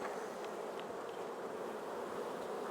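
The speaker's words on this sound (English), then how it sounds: "Bees are rowdier." Honey bees in autumn swarm noisily around an open hive during a beekeeping inspection, a steady dense buzzing drone close by with faint clicks of frames, no talking.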